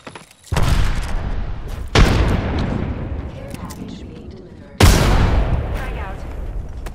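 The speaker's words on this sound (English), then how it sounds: "Look out, grenade." Grenade explosions in Apex Legends, three heavy booms with sharp onsets followed by long rumbling decays that overlap one another, loud and close, while voice lines from the game play under them.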